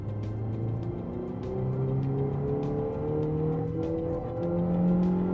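A 2019 Lexus UX with a non-turbo 2-liter four-cylinder engine and CVT accelerates, its engine note rising smoothly in steady tonal sweeps, heard clearly inside the car without talk.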